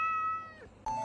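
A domestic cat meows close by in a short, tonal call with a clear rising-and-falling pitch, followed by a second brief, brighter meow near the end; no one talks over it.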